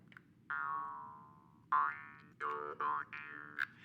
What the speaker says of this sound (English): This is a jaw harp.